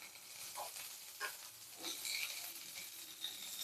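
Vegetables sautéing in a pan while making ragi kichdi, a faint steady sizzle with a few soft stirring scrapes.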